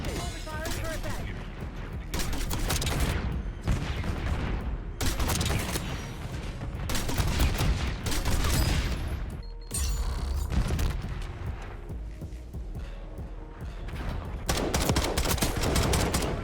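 Gunship killstreak firing in Call of Duty Black Ops 6, loud dense bursts of automatic cannon fire and booming impacts rolling continuously with brief dips, with speech mixed in underneath.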